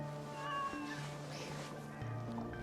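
A cat meows in the Assassin's Creed Shadows video game, a few drawn-out tonal mews layered with soft game music, fairly quiet and close.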